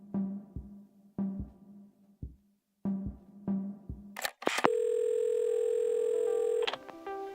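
A telephone in the puzzle game Assemble with Care: a series of clicks and clunks as the handset is handled, then a short burst of noise and a steady dial tone holding for about two seconds, with no voices.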